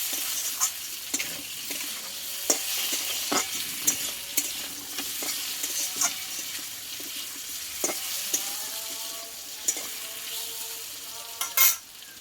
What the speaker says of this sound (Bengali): আর সবশেষে দেবো এখানে হাফ চামচ মতো আমচুর পাউডার এটা দিয়ে আরও আমি কিছুক্ষণ নাড়াচাড়া করে নেবো